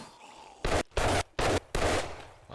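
Four loud, close pistol shots fired in the zombie survival video game 7 Days To Die ring out in quick succession, evenly spaced and each cut off sharply, with no talking over them.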